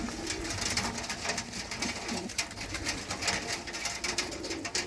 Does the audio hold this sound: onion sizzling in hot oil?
no